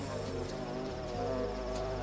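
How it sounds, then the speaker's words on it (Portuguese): A bumblebee buzzes steadily and continuously at close range while it approaches a blue lobelia flower in a garden, a low droning hum with no voices. "Quando o abelhão se adianta em direção à lobelia azul em busca de néctar"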